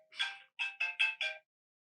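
A mobile phone ringtone plays a short melodic electronic tune, one longer tone followed by four quick bursts, clear and alone with no talk.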